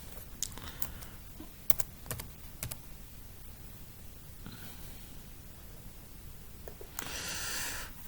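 Computer keyboard typing while entering a formula in Excel, with short bursts of sharp, close key clicks separated by pauses and a brief rustle near the end. No one speaks.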